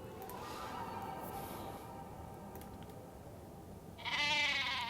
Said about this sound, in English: Yes, yes, I hear you, sheep.